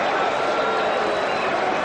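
A cricket stadium crowd roars during a tense Pakistan semifinal as a fielder hits the stumps for a run-out attempt, a loud, sustained wash of massed voices with no break.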